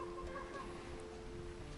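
Pigeons in a large dovecote coo and murmur faintly at a distance, soft bird sounds blending into steady background noise.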